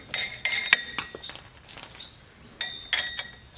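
Metal lug nuts clinking against the wheel studs of a Polaris 570 as they are fitted over new wheel spacers: several sharp, close metallic taps and rattles in bursts, with short quiet gaps between them and no talking.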